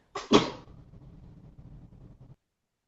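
A single sharp, explosive sneeze close by, followed by a couple of seconds of quiet room noise.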